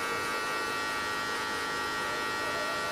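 Electric hair clippers run with a steady, continuous buzz while cutting a fade with a guard, close and even throughout, with no talking.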